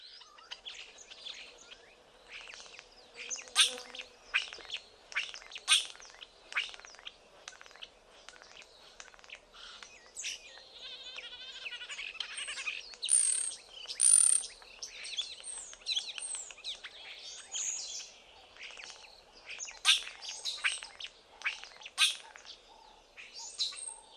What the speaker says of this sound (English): Let us listen to their strange song, full of whistles, rattles, squawks and trills, and even mimicry of local birds